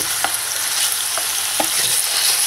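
Minced chicken fries in a pan with onion, a loud, dense sizzle and crackle close up, broken by a few soft stirring scrapes and pops.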